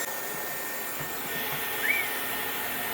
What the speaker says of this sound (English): I try to blow dry my hair with a little bit of a curl